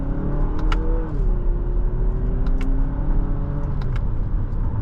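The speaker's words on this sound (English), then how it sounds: "It has nice acceleration." 2022 Lexus NX 350 F Sport accelerating on the road, a steady moderate engine drone with a gentle rise in pitch, heard from inside the cabin with no talking.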